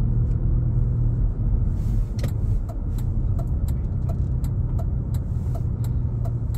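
Car making a left turn on Main Street in Flushing, New York, with a steady engine and road rumble close up, a string of sharp ticks like a turn signal clicking through the second half.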